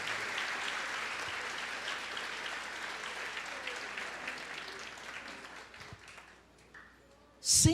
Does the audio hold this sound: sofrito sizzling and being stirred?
no